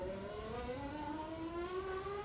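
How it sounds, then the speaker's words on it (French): Engine of a racing car in the PlayStation 1 video game F1 2000, a steady high-pitched whine with slowly rising pitch, sustained and fairly quiet with no talk. "ce magnifique bruit de moteur"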